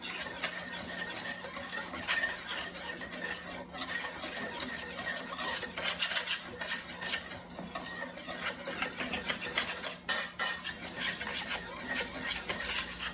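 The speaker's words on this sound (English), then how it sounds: "I'm gonna whisk this together" A whisk scrapes and rattles steadily around a bowl as apple fritter batter ingredients are mixed, a continuous close-up swishing and clinking lasting throughout with small irregular variations.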